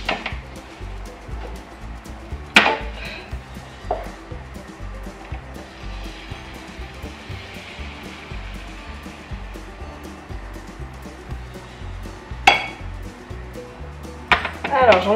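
A frying pan is oiled and crêpe-style batter cooks for Mardi Gras, giving a steady low sizzle throughout with a few sharp utensil clinks and scrapes near the start and end.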